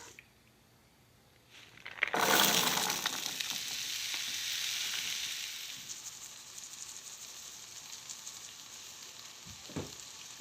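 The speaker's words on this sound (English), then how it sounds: "our sausage is cooking nicely" Sausage frying in oil in a pan for breakfast burritos: a loud sizzle bursts in after a quiet start, holds steady, then eases into a softer ongoing crackle with a faint clink near the end.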